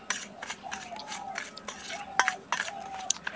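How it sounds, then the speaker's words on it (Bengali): A spoon scrapes and clinks in a bowl as raw mango pickle is mixed with salt and turmeric, in short uneven strokes with sharp metallic ticks, close and fairly quiet. "এবার এটাকে একটু ভালো করে মিশিয়ে নিচ্ছি।"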